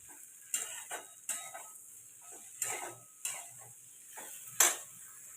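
Water goes into a pan of papaya curry, setting off short sizzling hisses and stirring scrapes that arrive in brief separate bursts, fairly quiet, with near silence between them.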